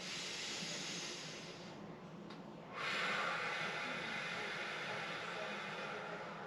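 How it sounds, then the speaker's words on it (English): Slow, controlled breaths during a scoliosis elongation exercise: a long airy inhale, a brief pause, then a steady hissing exhale, close and quiet. "I'm taking slow inhales and controlled and slow exhales"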